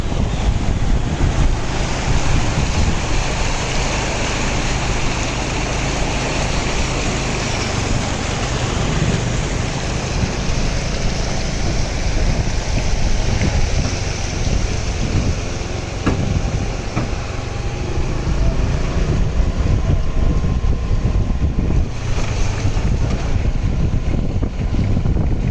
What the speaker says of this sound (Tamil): ரொம்ப தண்ணி போயிட்டுருக்கு, இழுத்து போயிட்டுருக்கு தண்ணி.